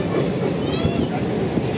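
A train rolls across the Farakka Bridge, giving a loud, steady rumble with a faint metallic ringing of wheels on the span and no distinct talk.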